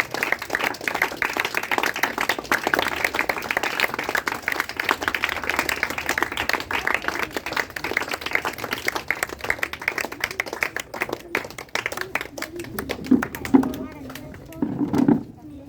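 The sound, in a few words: audience applause at birthday celebration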